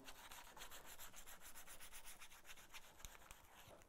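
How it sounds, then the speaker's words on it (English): Soft, quick back-and-forth sanding strokes rasp steadily on a restored bench plane, close and fairly quiet. "Little light sanding."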